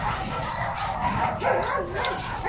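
A large K9 unit dog barks a few times amid background noise and faint voices, the yelps fairly close and mid-loud.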